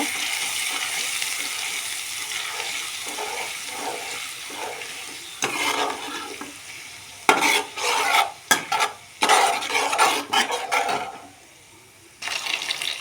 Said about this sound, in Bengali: বেটে রাখা জিরে বেটে রাখা শুকনো লঙ্কা সমস্ত মশলা দিয়ে খুব ভালো করে কষে নেব